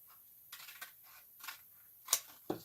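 Scissors cut across sheets of paper to make paper flowers for a wedding backdrop, giving a few quiet, crisp snips close by with pauses between them and a sharper cut near the end.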